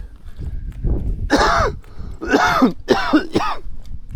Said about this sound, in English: You probably notice I've got a bit of a cough at the moment.